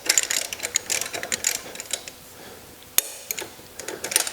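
Rapid ratcheting clicks of a torque wrench tightening timing chain bolts on a 2013 BMW 535i xDrive engine, a close, dry metallic ticking in short bursts with a pause midway and one sharp click near the end.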